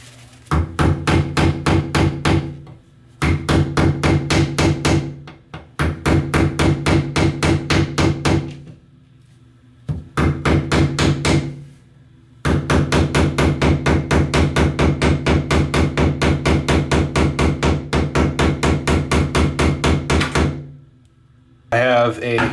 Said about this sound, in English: So what I'm going to do now is hammer away around the edge, I already started right here, to release the flange from the lead pipe.